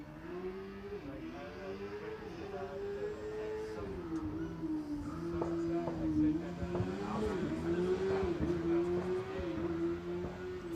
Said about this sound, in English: And now we have the second run for the wood racing.